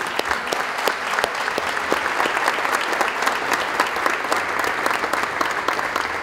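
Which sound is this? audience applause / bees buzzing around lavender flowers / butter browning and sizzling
audience applause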